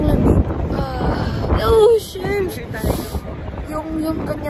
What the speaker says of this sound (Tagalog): Yung kanyang hangin, yung parang hangin na lang siyang bigla.